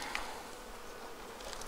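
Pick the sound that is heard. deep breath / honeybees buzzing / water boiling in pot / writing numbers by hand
honeybees buzzing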